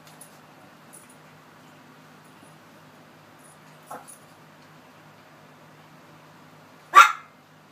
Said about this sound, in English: What are you doing, you crazy dog?